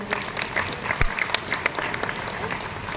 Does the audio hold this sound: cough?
no